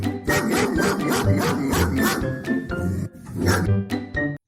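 A fierce mother dog barks repeatedly and loudly at a thief near her puppies, rapid harsh barks and growling close by, with brief pauses.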